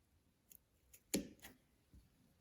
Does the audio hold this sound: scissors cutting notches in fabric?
yes